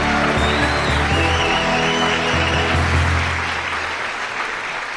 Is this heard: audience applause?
yes